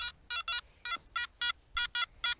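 Metal detector in sand sounding a steady tone as a series of about ten short, evenly repeated beeps, close and clear, with no talking.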